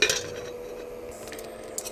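Metal utensil scraping and clinking against a pressure cooker as rice is stirred to dry-roast it into puffed rice, fairly close, with a faint hiss underneath.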